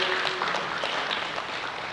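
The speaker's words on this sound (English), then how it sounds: "Please let's clap for that's a presentation" A conference audience applauds a presentation, a dense, steady wash of many hands clapping in a room, moderately loud and even throughout.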